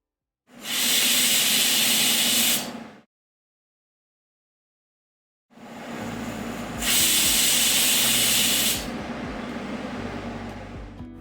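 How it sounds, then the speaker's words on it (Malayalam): A pressure cooker of beef for a kappa biryani vents steam in two loud hissing bursts, the first about two seconds long. The second is longer and fades into a lower rumble. "ആദ്യത്തെ 2 വിസിൽ ഹൈ ഫ്ലെയിമിലും പിന്നീടുള്ള 4 മുതൽ 6 വരെ വിസിൽ ലോ ഫ്ലെയിമിലും വെച്ച് ചെറിയ തീയിൽ വെച്ചിട്ട്"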